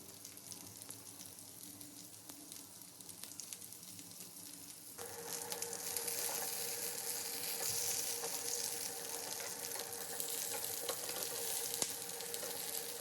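Palak rolls frying in two tablespoons of oil in a flat kadai, the sizzle starting quietly and jumping to a loud, steady crackle about halfway through as the rolls go in.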